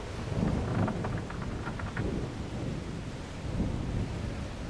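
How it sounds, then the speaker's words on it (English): Stormy sea weather in the video game Tales of Morrow, with steady heavy rain hissing and low thunder rumbling in rolling swells, a dense continuous storm bed at moderate level with no voices. "looks like we begin our adventure on a boat, a little dinghy, sailing the stormy seas"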